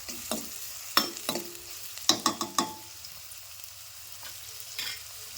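Chopped onions frying in hot oil toward golden, with a soft steady sizzle broken by several sharp scraping stirs of a spoon against the pan, close and clear, no voices.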